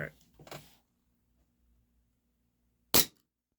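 An HFC DarkHawk gas blowback airsoft pistol on black gas with 0.20 gram BBs fires once, a single sharp close crack near the end, after a short burst of talk and a quiet pause.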